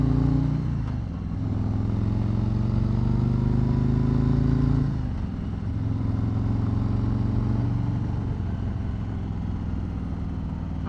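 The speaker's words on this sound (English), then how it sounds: "it's got the Harley rumble I felt on the first two" 2020 Harley-Davidson Road Glide engine rumbling while riding, a loud continuous low throb with rising and falling pitch as it accelerates and shifts, steady throughout with no talk.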